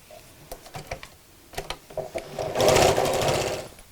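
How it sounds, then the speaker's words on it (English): A domestic sewing machine stitches straight across the corners of a zipped fabric make-up bag, starting with short stop-start bursts and then running in one steady, loud, continuous whir toward the end. "we can open up those corners and sew straight across"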